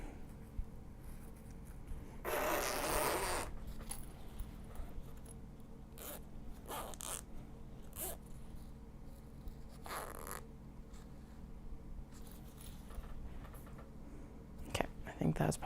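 Zipper pulls rasp in several short and longer bursts while a zipper is sewn into a small box bag, close and fairly quiet, with soft handling noises and murmured talk between them.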